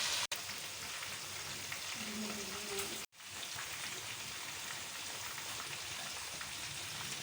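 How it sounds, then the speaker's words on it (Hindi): Lahore-style chicken chargah frying in hot oil, a steady dense sizzle and crackle like heavy rain, continuous and moderately loud for several seconds with two brief dropouts, no voices. "5 मिनट तक एक साइड हमने इसकी फ्राई करेंगे और 5 मिनट तक ही इसकी दूसरी साइड फ्राई कर देंगे।"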